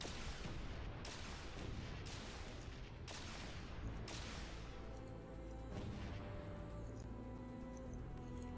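Rapid bursts of gunfire in Space Engineers, aimed at a falling ship: loud, dense fusillade-like blasts repeating about once a second for the first half, then a heavy rumbling crash tail.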